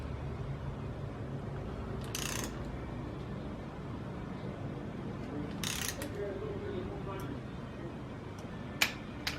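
A torque wrench tightens bolts to 15 foot-pounds on a 350 Chevy engine, giving three sharp, brief clicks spaced a few seconds apart against a quiet, low background.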